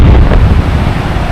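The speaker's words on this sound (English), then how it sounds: "it is incredibly windy" Strong wind buffets the microphone near a small waterfall below a mountain range in Torres del Paine, Patagonia, a loud, continuous low roar and rumble with no voices.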